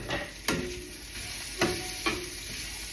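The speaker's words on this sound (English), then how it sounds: "Give it all a good stir." Garlic and onions sizzle steadily in a frying pan, with a few sharp scraping strokes of a utensil as they are stirred, close and clear with no talking.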